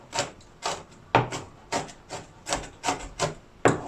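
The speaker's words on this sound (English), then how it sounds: "So what you do, you just chop them until it's finely chopped." Knife chopping green chilies finely on a board for onion bhaji, a close, steady series of about nine crisp, even cuts, each a short thud-scrape, with no speech.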